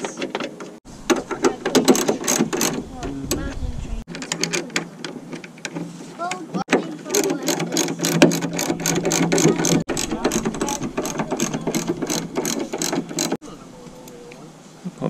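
A power screwdriver drives a screw into a Toyota Sienna sliding door, giving a loud, close ratcheting mechanical whir in long runs broken by brief pauses, with people talking at times.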